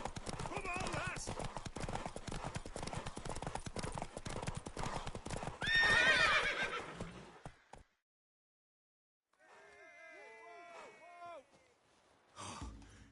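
A horse in Witcher 3 gallops, its hooves drumming in a fast steady clip-clop, then pulls up and gives a loud whinny and snorts after a brief silence, with a voice heard early on.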